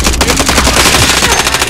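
Rapid bursts of video game gunfire fill the space, loud and continuous, like sustained automatic weapon fire in a multiplayer shooter match.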